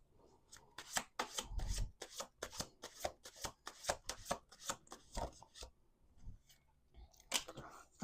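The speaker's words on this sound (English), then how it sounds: "We're going to do 2 more shuffles." Tarot cards being shuffled by hand, a quick run of crisp riffling snaps and slaps in irregular bursts, close and fairly quiet, with a short pause before a final flurry.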